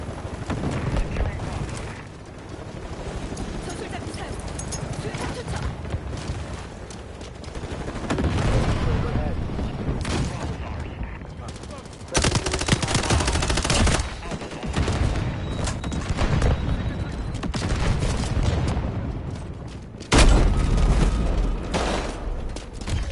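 Dense bursts of shotgun blasts and rapid gunfire from a Modern Warfare beta match on PS5, loud and close, with sharp heavy shots punctuating continuous firefight noise throughout.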